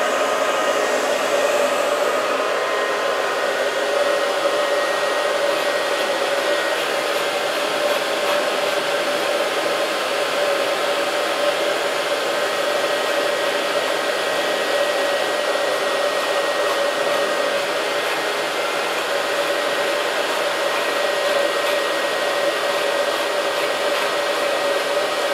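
An Onyx Professional hair dryer from Irresistible Me blows steadily and loudly throughout, a constant whooshing hum with a faint whine, no talking, unchanging from start to finish.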